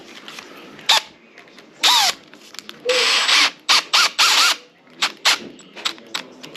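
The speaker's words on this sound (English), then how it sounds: "Where's the drill? I just had it." A handheld power drill runs in short bursts during a home toilet and door knob repair, with brief whirring spurts and pauses between them, close by and moderately loud.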